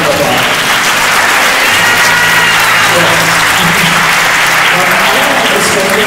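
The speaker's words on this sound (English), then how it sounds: "Give them a round of applause." A room full of people applauding loudly and continuously for a high school choir at a spring vocal concert, with dense clapping and some cheering mixed in.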